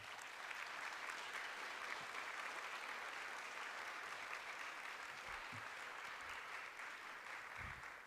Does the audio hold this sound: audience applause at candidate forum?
yes